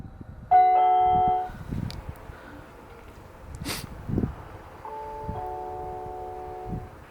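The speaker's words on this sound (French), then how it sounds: "c'est installé la sonnette?" A newly installed doorbell is tested indoors, sounding two clear chime tones, one near the start and a longer one later, with quiet room noise and a faint thump between them.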